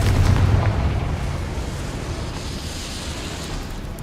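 A Confringo fire spell blast in the video game Hogwarts Legacy, heard as a loud booming burst at the start that rolls into a sustained, decaying rumble with no talk.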